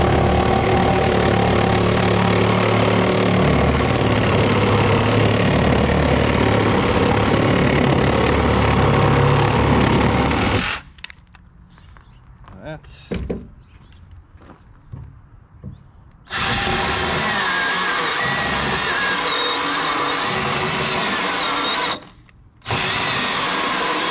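A Milwaukee M12 Hatchet six-inch cordless pruning saw buzzes loudly as its chain cuts through wood to slice off a coaster, stops for a stretch of small clatter and handling noises, then roars again in a long continuous cut.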